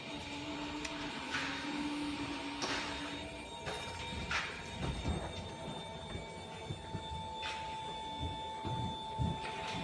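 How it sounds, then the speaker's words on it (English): Hydraulic slide-out motors on a 2022 Wildwood 42QBQ travel trailer whine steadily under load, a sustained mechanical drone with faint creaks and clicks, heard alone without talk. "Once all the slides are fully extended, we're going to kind of hear the whine on the motors, a little bit of load."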